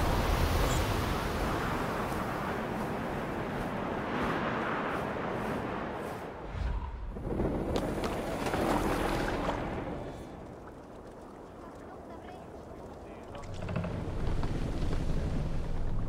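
A Viking longship is rowed across the open sea in Assassin's Creed Valhalla. Continuous rushing water and wind wash along steadily and loudly, with no distinct oar strokes standing out.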